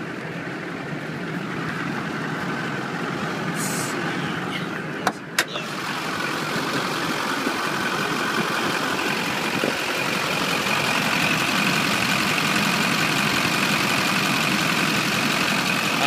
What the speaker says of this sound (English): I've been getting requests lately for a video under the hood while it's running. so you can hear it running under the hood